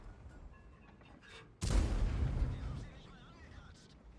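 Tank shells in World of Tanks strike and glance off armour in a sudden heavy metallic impact, a loud booming crack followed by a rumbling decay under a quiet battle background.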